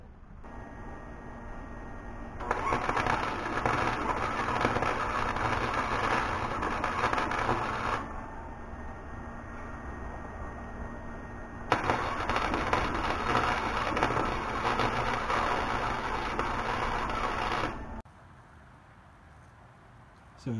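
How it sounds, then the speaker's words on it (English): Tack welding a steel arm to an angle iron plate for a homemade paramotor, with two long bursts of loud crackling, hissing arc noise separated by a quieter gap and a near-silent stretch at the end. "now I'm just going to tack it and then weld the arm to the plate"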